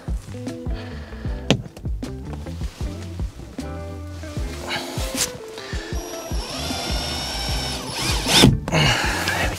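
A power drill drives screws into the interior of a Land Rover Defender in several short, whirring bursts separated by brief pauses and light handling clatter, recorded up close.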